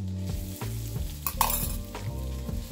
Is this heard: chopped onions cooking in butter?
yes